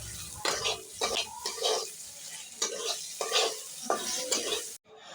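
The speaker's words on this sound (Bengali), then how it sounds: "এখন আমি নাড়াচাড়া করে একটু ভালোভাবে ফ্রাই করে নেব" Mango pieces with salt and turmeric being stirred and fried for a Bengali chutney: repeated scraping strokes of a spatula against the pan over a soft sizzle, close and rhythmic, ending abruptly.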